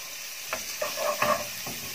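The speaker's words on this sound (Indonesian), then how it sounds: "Ini ya bawang bombaynya kita tumis dulu" Onions sauté in a pan, a faint sizzle broken by a few short spatula scrapes and stirs, with no voices.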